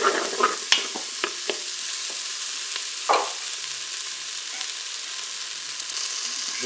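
Potatoes sizzle and crackle in a Cookeo multicooker on its browning function, with a steady hiss broken by stirring clatters and scrapes of a utensil against the pot.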